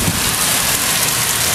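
Heavy wind and rain lash down in Fredericton, a dense, constant roar of downpour and gusts, loud and unbroken from start to finish.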